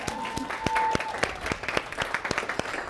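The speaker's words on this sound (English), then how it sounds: "Can we get a round of applause?" Scattered applause from a small audience at a leadership talk, a few distinct claps ringing out over a brief burst, with a faint voice and a steady tone in the background.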